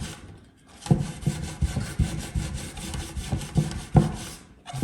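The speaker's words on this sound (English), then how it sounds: "I might want to try some light sanding. Take an old sanding pad and see." An old sanding pad lightly sands the worn finish on old cabinets, giving repeated scratchy rubbing strokes roughly every half second, close and moderately loud, with no talking.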